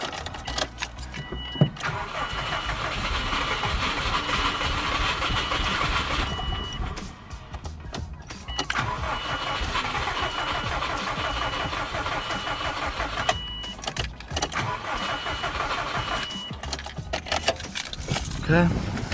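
Starter cranking on a 2002 Subaru Bugeye, running in long continuous bursts with brief pauses between, loud and close from inside the car, with key jangles and occasional voice.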